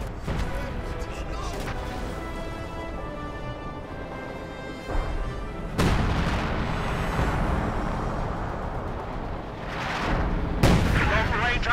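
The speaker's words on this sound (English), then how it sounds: "Long-range artillery" Long-range artillery fire in the real-time strategy game Company of Heroes 2, heavy booming shots and crashing impacts arriving in bursts over a rumbling battle bed, loud and dense throughout.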